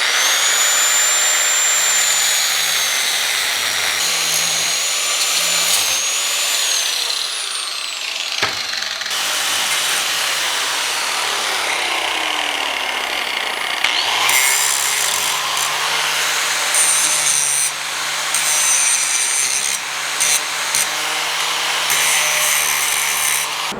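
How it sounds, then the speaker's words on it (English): A power tool cutting a notch into a metal piece for a swage block stand, a loud, steady grinding and rasping that runs close and continuous throughout, its pitch shifting as the cut goes on. "I'm going to cut a little notch out for our shaft that goes into the anvils."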